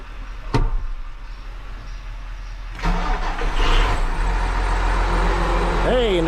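A Case 305 tractor engine cranks and catches after a brief click, then settles into a loud, steady mechanical rumble.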